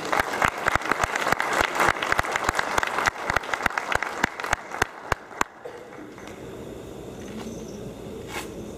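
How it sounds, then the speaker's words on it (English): Audience at a candidate forum claps in a steady burst of applause that fades out after about five seconds, leaving quiet room tone with faint stray sounds. "I'd like for y'all to give them a round of applause and thank them"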